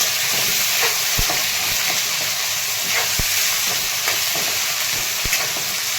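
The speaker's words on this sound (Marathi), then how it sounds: "वांग्याच्या फोडी छान परतून घेतो" Brinjal pieces frying in a pan give off a loud, continuous close sizzle, with a few sharp spatula taps and scrapes scattered through it and no voices.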